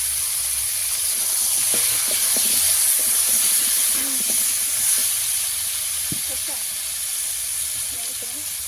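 Potatoes and pumpkin sizzle steadily in a pan with turmeric and chilli powder, a continuous bright hiss of frying with a few soft stirring clicks near and alone.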